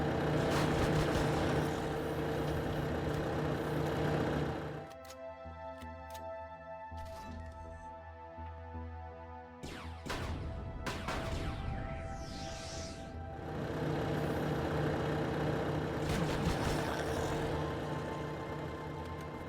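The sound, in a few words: loud diesel engine running in a video game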